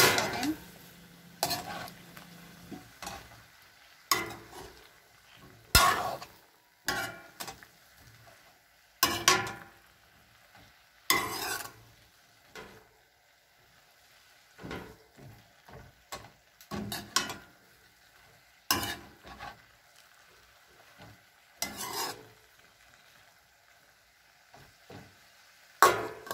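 Mixed vegetables in butter are stirred in a pan, with repeated scraping and clinking strokes of a utensil against the pan in irregular bursts, separated by short quiet gaps, with a faint sizzle underneath.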